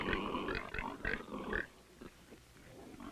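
Pigs on a Chinese farm grunt in a quick irregular cluster of close, fairly loud snorts and oinks during the first half, easing into quieter scattered grunts.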